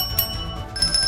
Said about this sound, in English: Anytime anything exciting happens, I make sure I ring the bell.